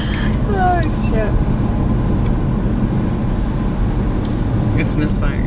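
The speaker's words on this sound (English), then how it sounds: "It's misfiring a lot." Rough, uneven running of a Corvair engine misfiring and running rich, a steady loud low rumble throughout with voices talking over it.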